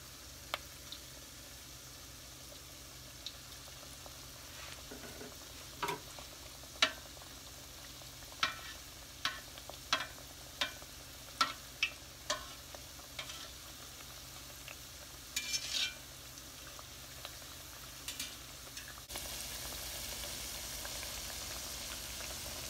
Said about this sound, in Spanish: Queremos que el aceite esté bien caliente para que el churro no absorba tanto aceite.